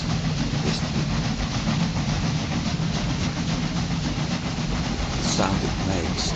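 Steam locomotive in the game Railway Empire 2 running steadily, a continuous loud rumble and chuff with rolling wheel noise throughout, with a voice talking over it.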